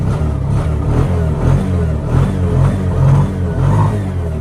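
A Bajaj three-wheeler's engine idles steadily after a carburetor repair, a close, continuous mid-pitched putter with slight rises and dips in revs and no talk over it.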